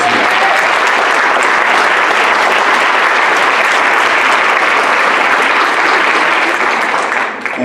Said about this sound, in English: And clapping for that